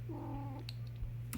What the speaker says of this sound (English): That's my kitty